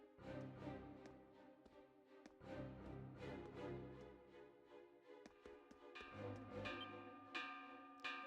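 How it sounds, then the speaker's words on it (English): A warning bell in the video game Ys IX: Monstrum Nox rings with repeated resonant metallic strikes, layered over game music and continuing steadily throughout at moderate volume. "That sound. It's the warning bell."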